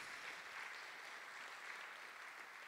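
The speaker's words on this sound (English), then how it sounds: "let's give this man a wonderful round of applause" Applause from the audience at a pastors' conference, a soft, distant and even wash of many hands clapping together, steady and low in level throughout.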